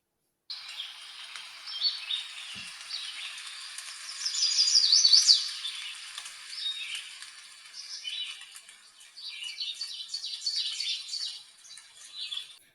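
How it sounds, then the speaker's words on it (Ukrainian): Birds chirp and trill continuously in an autumn forest over a soft, airy background of rustling leaves and breeze, some calls near and some farther off, with no talking. "Як співають птахи, як шурхотить листя, як шумить вітерець"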